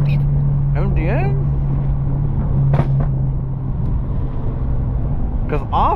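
A BMW M2 drives through a canyon with a steady low engine drone and road rumble throughout, heard from inside the car while people talk over it.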